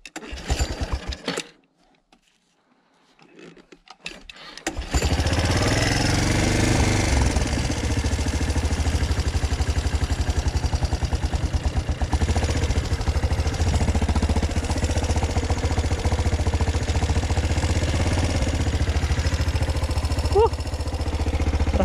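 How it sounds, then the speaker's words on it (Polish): A small engine starts after a brief quiet spell and then runs steadily, loud and close, for the rest of the clip, with a constant rough drone and no talk. "Palmy kosiarkę."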